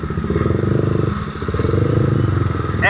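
A CFMOTO 300SR motorcycle engine runs through an aftermarket muffler, a loud, close, rapidly pulsing exhaust burble that holds steady for a few seconds with a brief dip before picking up again.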